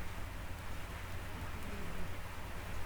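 Steady rain falling outside, a dense, even hiss of drops on surfaces with a low rumbling undertone, continuous and moderately loud throughout, no talking.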